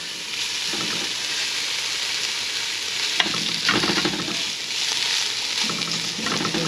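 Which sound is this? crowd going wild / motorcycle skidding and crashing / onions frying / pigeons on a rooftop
onions frying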